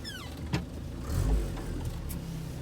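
A 1989 Land Rover Defender 90 with 134,500 miles driving around a village, a steady low engine drone heard from inside the cabin, swelling briefly as it accelerates, with no talking.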